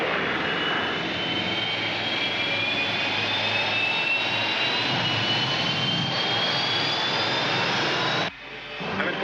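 A rescue spaceship in a sci-fi TV show roars with a loud, sustained jet-like engine whine and high tonal hum that holds steady, then cuts off abruptly near the end.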